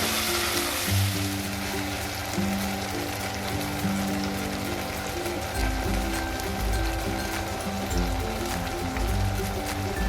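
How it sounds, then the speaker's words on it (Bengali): A coriander and ginger paste sautés in hot oil for a Bengali fish curry, giving a steady soft sizzle and crackle with occasional scraping, close and moderately quiet throughout. "এবার ভালো করে সব সঙ্গে কষে নেব।"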